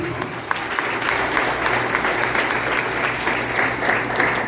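A church congregation claps together in a dense, steady wash of applause that carries on for several seconds, with a voice faintly audible beneath it.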